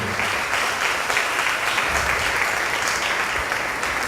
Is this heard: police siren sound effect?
no